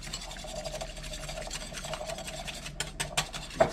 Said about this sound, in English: give them a little beat.